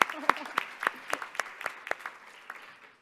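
A plenary audience gives a round of applause, a thin, sparse run of about a dozen distinct claps in a fairly steady rhythm, close and modest in volume, thinning out toward the end.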